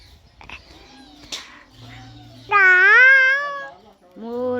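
A peacock gives a loud, rising, cat-like wail that holds for about a second, then starts again at the end, following quieter background chatter and a voice.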